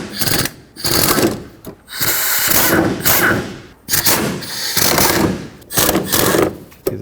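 A power tool backs out bolts on the driver's side of a Chevrolet Express, loud and close, in repeated buzzing bursts a second or so long, separated by brief gaps.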